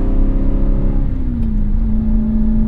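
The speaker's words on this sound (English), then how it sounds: "that engine sound when you downshift rev match" A 2014 Aston Martin V8 Vantage engine roars loudly close by on a rev-matched downshift, its pitch swooping as the revs shift and settle into a steady hum.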